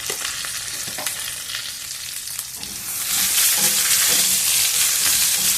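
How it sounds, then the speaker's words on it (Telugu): Stuffed eggplant frying in a little oil with turmeric for masala gutti vankaya, a close, continuous sizzle that swells louder partway through, with occasional stirring clicks and no voices. "కొంచెము నూనెలో బాగా వేగనిద్దాము"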